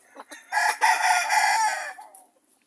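Young chickens on a farm let out a loud, close crow with clucks, rising over a couple of seconds and then falling silent.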